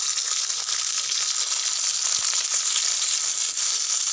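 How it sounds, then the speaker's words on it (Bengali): Green beans and broad flat beans fry in hot mustard oil, giving a steady, loud, dense sizzle that runs unbroken with no voices over it. "উল্টো পাল্টে ভালোভাবে লাল লাল করে আমি ভেজে নেব।"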